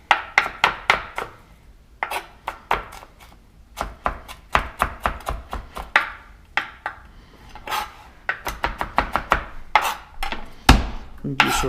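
A knife chops fresh ginger on a board with crisp, close taps. They come in quick runs of several strokes, separated by short pauses, with no talking.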